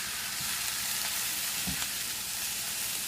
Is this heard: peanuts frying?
yes